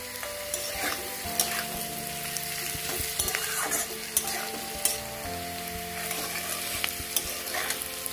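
Potatoes and onion with salt frying in a pan for an egg curry, a steady close sizzle and crackle with occasional stirring scrapes and spoon knocks throughout.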